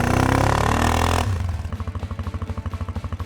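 A Sharmax QJ Motors Force 800 ATV in rear-wheel drive spinning its wheels in snow: a loud roaring engine burst that drops after a second into a fast, steady, rhythmic engine pulsing.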